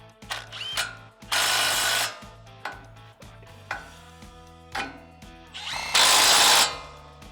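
A power tool tightening the upper ball joint nut on a 2016–2023 Toyota Tacoma during a leveling kit install, loud close bursts of whirring and rattling impacts separated by short pauses, no speech.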